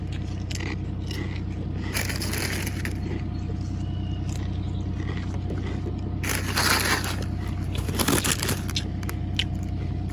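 Crisp crunching from chewing Lay's kettle-cooked jalapeño potato chips up close, in bursts with brief pauses, over a steady low hum.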